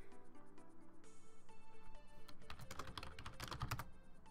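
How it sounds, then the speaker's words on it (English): A computer keyboard clacks under rapid typing: dense bursts of sharp, close keystrokes, quiet overall, that grow busier and louder toward the end. "The keyboard clacking?"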